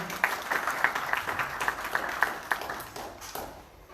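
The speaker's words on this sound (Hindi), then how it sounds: "एक बार जोरदार तालियों से संगीत साथियों और महाराज जी को धन्यवाद करेंगे।" An audience at a Bhagavat Katha gathering in a temple claps to thank the musicians, a moderate, somewhat rhythmic patter of hands with sharp individual claps standing out, fading toward the end.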